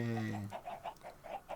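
A chicken in Minecraft gives a quick run of short, soft clucks in an uneven rhythm after a brief tonal note at the start, close by and fairly quiet.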